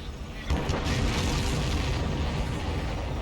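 A heavy explosion booms in Ace Combat 7, bursting suddenly after a brief quiet lead-in and rolling on as a loud, sustained rumble that slowly fades.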